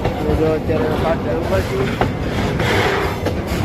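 A long train rolls past a level crossing, a steady broadband rumble of wagons with faint rhythmic clatter that carries through the whole stretch, while someone speaks briefly over it.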